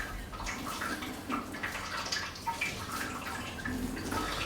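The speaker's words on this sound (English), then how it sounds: "You can tell by the sound that it's just really just trickling through, and that's the sort of sound we're after" Sparge water trickles and splashes through the grain bed of a Grainfather brewing system, a soft, continuous, uneven patter of dripping liquid with small gurgles, close by and without talk.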